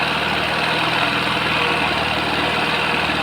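A Bajaj Discover motorcycle engine, freshly rebuilt with new piston rings, idles steadily up close, a continuous loud rapid mechanical thrum with no pauses and no talk over it.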